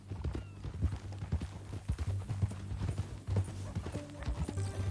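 Horse hooves clip-clop at a steady walking rhythm in the video game Red Dead Redemption 2, close and moderately loud, with light ambient noise around them.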